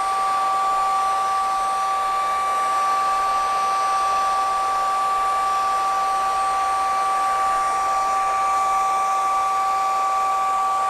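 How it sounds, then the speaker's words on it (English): A hair dryer held directly above a painting to dry the paint blows a steady, even whoosh with a constant high whine for the whole stretch, close and alone. "if you put the hair dryer directly above the painting"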